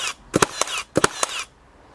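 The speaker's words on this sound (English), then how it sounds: "I'll fire that into the bit of Vitex so it doesn't stick to my bench here." Milwaukee M12 cordless brad nailer bump-firing brads into a scrap of Vitex hardwood on a bench: three close, sharp percussive shots, the first two in quick pairs of clacks, each with a brief ringing tail, then quiet.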